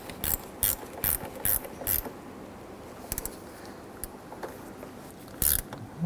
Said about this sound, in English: Pop the terminals on here and tighten them down.